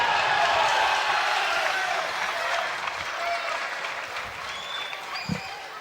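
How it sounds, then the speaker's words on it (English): Supporters of a Dublin club cheer and clap at a senior Gaelic football championship match, a broad crowd roar with applause that starts loud and gradually eases, with a commentator's voice faintly beneath. "The Cuala fans cheering absolutely everything that's going their way."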